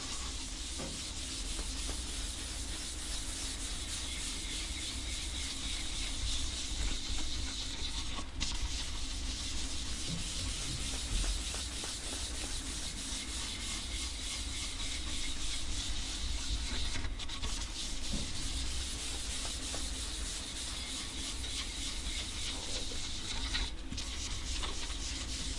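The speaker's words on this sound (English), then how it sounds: "So I use the strokes to apply that initial and then rub it in" Steady, continuous rubbing of leather dye into a birdseye maple wood surface, a close, even friction hiss with slight rhythmic swells, no talking.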